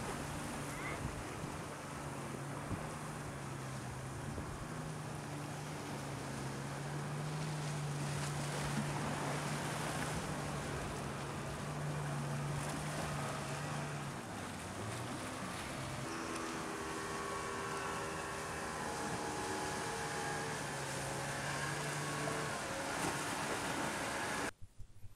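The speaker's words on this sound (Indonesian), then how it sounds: "ini dugaan saya adalah kapal yang pulang dari Pulau Angsoduo, sebuah wisata pulau yang dekat dengan Pantai Gandoria" A boat returning from Angsoduo island, heard near Gandoria beach, gives a steady low engine drone with wind and surf across the shore, fairly distant and continuous throughout.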